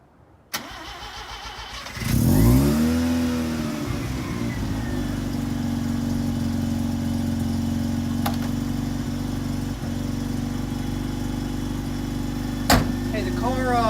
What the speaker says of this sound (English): start the car now so you can hear what the new exhaust sounds like